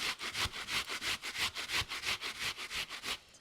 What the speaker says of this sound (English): let's grate 1 medium yellow onion